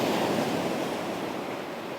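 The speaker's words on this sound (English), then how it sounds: "enjoying the gentle sound of the waves" Gentle ocean waves washing on the shore in a steady, soft rush with a faint breath of wind, heard close and alone.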